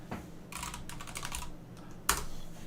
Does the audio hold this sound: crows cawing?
no